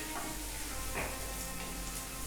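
Chopped garlic dropped into a hot pan with curry leaves and ginger hisses in a steady, close sizzle with faint crackles, part of a South Indian chicken mango curry.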